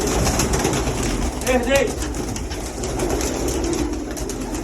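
Pigeons of a meat breed coo in a low, throaty burst, close by, over steady background noise as someone talks nearby.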